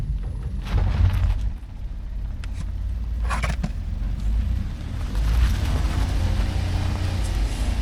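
Suzuki Super Carry kei truck pulling away again off-road in low range, a steady low engine drone with wind buffeting and rough rumble over about eight seconds, no talk.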